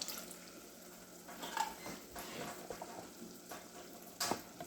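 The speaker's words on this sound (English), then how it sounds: "Just add a little water to your can and rinse that goodness, all of that goodness out" Water swirls and splashes inside a food can being rinsed out in a home kitchen, quiet and close, with a few sharper sloshes and clinks and no talking.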